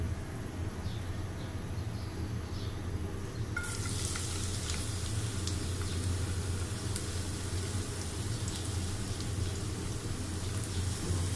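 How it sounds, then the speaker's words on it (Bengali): Chopped onions dropped into hot cooking oil in a pan, setting off a sudden, loud, steady sizzle and crackle that keeps going without letting up. "পাত্রে প্রয়োজন মতো তেল দিয়ে নিয়েছি, তেলটা গরমও হয়ে গেছে। আমি আমার পেঁয়াজ কুচিগুলো দিয়ে দিচ্ছি।"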